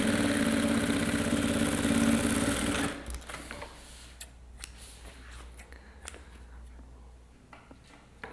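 A domestic sewing machine stitches sublimation fabric in a loud, steady whirring run for about three seconds, then stops, leaving a quiet room with faint handling clicks and rustles.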